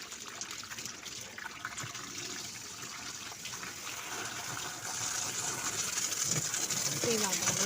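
Water splashes and gushes while a Haier washing machine is cleaned, a fluctuating watery spray that grows louder midway, with faint speech mixed underneath.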